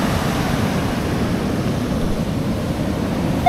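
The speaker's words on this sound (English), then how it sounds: "Don't turn your back on the waves." Ocean waves breaking on a beach, a steady loud roar of surf washing continuously with wind noise mixed in and no distinct breaks.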